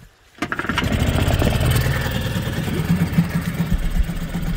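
A small petrol engine with its choke partly on catches after a short silence, then runs steadily at a loud, close, rough idle.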